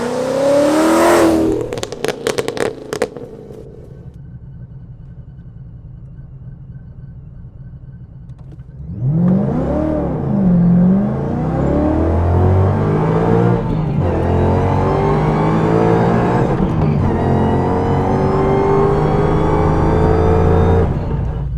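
Ford Mustang GT500 Super Snake driving, a loud engine note rising and falling through several hard accelerations, with a quieter cruising stretch in the middle before the revs climb again.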